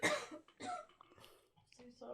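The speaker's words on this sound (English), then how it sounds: "You're just coughing it out." A person coughs several times in a row during a casual podcast-style conversation indoors. The coughs come as short, close, uneven bursts mixed with throat clearing, and speech can be heard around them.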